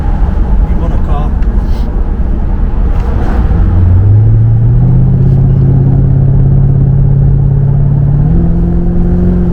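A 1998 Jaguar XKR X100 supercharged engine revving, a loud, close rumble with a rising whine as the revs climb and hold, then step higher, with no talk.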